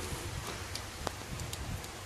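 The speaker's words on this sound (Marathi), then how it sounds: "खूप जोर आहे पावसाला." Heavy rain falling steadily outdoors, a faint continuous wash of patter with scattered drop hits and no voices.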